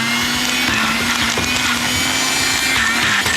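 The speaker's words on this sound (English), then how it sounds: "once this goes into the blender, it's going to grind right up" A kitchen blender grinds a quartered onion with marinade ingredients, a loud, steady whirring motor with gritty chopping texture throughout, no speech.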